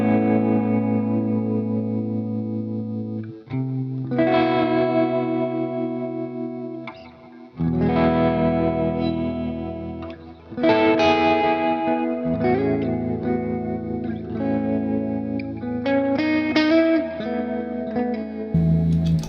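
An electric guitar with tremolo runs through a Golden Reverberator reverb pedal, strummed chords and picked notes pulsing and washing into a spacious tail, played alone at moderate volume.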